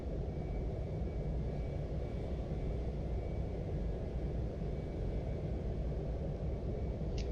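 A Boeing 747-100SR Shuttle Carrier taxiing in Flight Simulator X, a steady low jet-engine rumble and roar that holds constant throughout, near and unbroken, with no voices.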